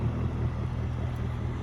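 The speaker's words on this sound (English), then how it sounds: "You can probably hear that sport exhaust on there now." Mercury 300 Verado outboard with sport exhaust on a 2024 Harris Cruiser 230 boat, a steady low rumbling drone held without a break, close and fairly loud, with light wind noise over it.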